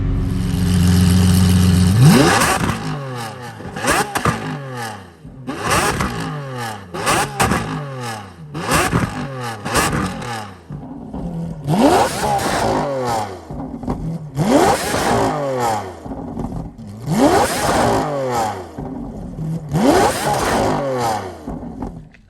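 A Lamborghini SVJ Roadster's V12 engine revs hard, loud and close, in a series of about eight sharp blips that each climb steeply then drop back between bursts.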